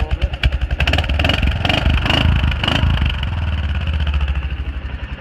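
A 2008 Kawasaki Prairie 360 4x4 ATV engine runs loud and close with a pulsing, slightly clattery idle, then revs up briefly before settling back into a steady idle.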